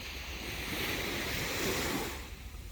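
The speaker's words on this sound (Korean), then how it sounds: "이렇게 좀 앞에 자연 제방이 저 돌섬이 있어서 파도는 세지 않을 것 같네요" Gentle sea waves at a sheltered sandy beach on Korea's south coast, a soft, continuous wash of surf mixed with wind noise, steady and moderately quiet with no voices.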